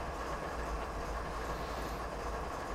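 Steady rolling rumble of a train on rails in a simulator game, running continuously at even loudness on a long downgrade over Marias Pass with brakes held on, with no voices.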